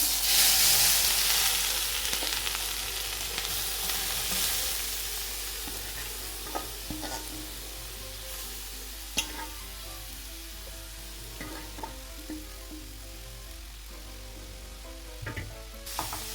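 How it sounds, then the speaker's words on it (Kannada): Grated carrots fry in ghee over a high flame for carrot halwa, a steady close sizzle with scattered stirring scrapes and clicks from a spoon moving through the pan. "ನೋಡಿ ಇವಾಗ ಈ ಥರ ಫ್ರೈ ಮಾಡ್ಕೋಬೇಕು ಸ್ವಲ್ಪ ಹೈ ಫ್ಲೇಮ್ ಇಟ್ಕೊಂಡೆ ಫ್ರೈ ಮಾಡ್ಕೊಳ್ಳಿ"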